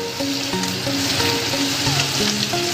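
Chicken pieces frying in a pan for chilli chicken, giving a steady, loud sizzle with continuous crackling throughout and no talking; faint tonal notes of background music run underneath.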